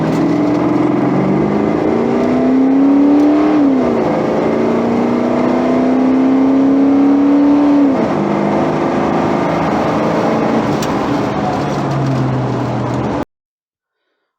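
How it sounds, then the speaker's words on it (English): A Fox-body Mustang 5.0 with an AOD automatic accelerates hard through an eighth-mile run with some wheelspin. The engine climbs loudly, drops at two distinct upshifts and then keeps pulling steadily. It is heard from inside the car, with no talking. "I hit the gas a little bit harder and I was getting some spinning."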